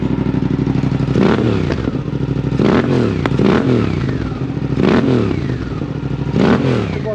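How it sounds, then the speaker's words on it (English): A Suzuki GSX-8S motorcycle with an airbox modification revs repeatedly up close, a loud throaty engine note that swells in a steady cycle of throttle blips, with some mechanical clatter underneath. "Start revving it, you hear it."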